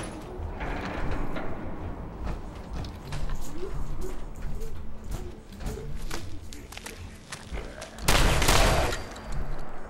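Gunfire from a player's gun in Fallout 4, scattered shots and impacts over game ambience with a louder burst near the end and a voice talking across the sounds.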